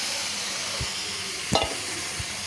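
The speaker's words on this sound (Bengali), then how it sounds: "খুব ভালো করে আমি নেড়ে নিচ্ছি" Jackfruit mixed with yogurt and spices is stirred in a hot pan, giving a soft steady sizzle with a few brief spoon knocks and scrapes, close up and without speech.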